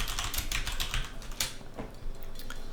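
Keys on a computer keyboard are typed in an irregular run of quiet, close clicks and taps, with no voices, during an Unreal Engine 4 game-development session.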